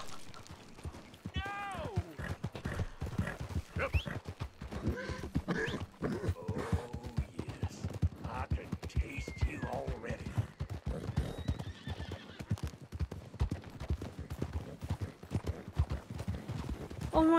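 Galloping horse hooves clip-clop in a fast, steady rhythm while the horse neighs loudly in Red Dead Redemption 2, with a voice talking over the action.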